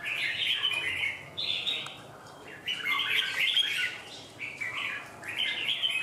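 Caged songbird kept indoors in northern Vietnam chirping in bright repeated bursts of trills and tweets, close and fairly loud, with short gaps between phrases and no talking.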